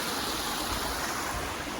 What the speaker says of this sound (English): this water course makes me so happy. It's super pretty.